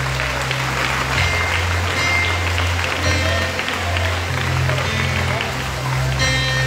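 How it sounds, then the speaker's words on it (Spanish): Church congregation clapping for Christ Jesus during a Spanish-language service, steady continuous clapping with a low hum underneath throughout. "Dele palmas a Cristo Jesús."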